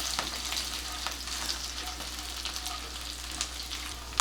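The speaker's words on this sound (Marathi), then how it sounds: "हे पण घालतेय थोडस हे तेलात परतून घेऊया" Chana dal and urad dal fry in oil with red and green chillies for chitranna, a soft, steady sizzle with light stirring scrapes over a low constant hum.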